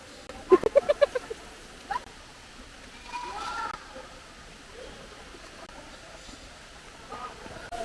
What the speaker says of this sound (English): You see the birds?